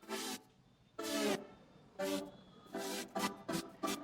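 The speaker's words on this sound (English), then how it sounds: "So I went ahead and I created another saw synth patch" A bright, buzzy sawtooth synth patch on an Arturia MiniFreak plays a simple, syncopated line of short sustained stabs with gaps between them, loud and clear with no voices.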